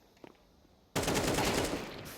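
Rifle fire in Counter-Strike 2 breaks out abruptly as a sustained, loud automatic spray of rapid shots after a brief quiet lead-in.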